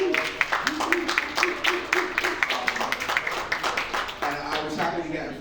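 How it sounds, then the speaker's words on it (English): Applause from a small crowd at a local Democratic campaign coffee-and-conversation event, steady clapping with voices talking over it. "Let's give them a big round of applause."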